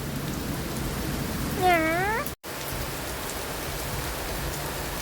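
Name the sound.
rain falling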